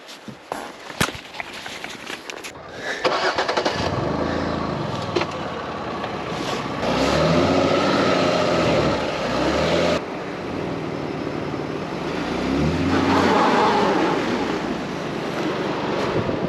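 Vehicle stuck on a gravel logging road in British Columbia, its engine revving in repeated rising surges as the wheels spin, with wind buffeting the microphone and no talk.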